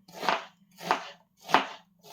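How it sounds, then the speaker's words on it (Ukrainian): Three or four steady knife chops on a cutting board, dicing food into small cubes, evenly spaced about two-thirds of a second apart, close and crisp with a faint low hum beneath. "Ріжу кубиками, так, маленьким, дрібненьким кубиком буде добре."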